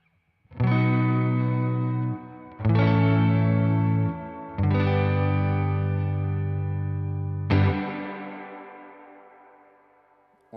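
An electric guitar played through a Strymon blueSky reverb pedal set to a long decay: four loud strummed chords, each held, and the last left to ring out in a long fading reverb tail.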